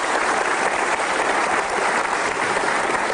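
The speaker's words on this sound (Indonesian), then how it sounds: "Boleh dong tepuk tangan untuk Romi 10" Sustained audience applause fills a televised talk show studio, a dense, even wash of clapping that holds steady and loud throughout with no voices over it.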